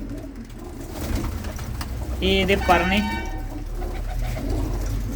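A female Makhiali pigeon gives a short, throaty coo up close while someone talks nearby over the bird's call.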